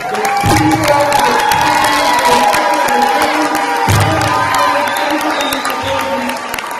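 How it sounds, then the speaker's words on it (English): Graduation crowd at an Ember Charter Schools ceremony claps and cheers continuously, with whoops and shouts rising above a dense, loud wall of applause. "give a round of applause to the audience"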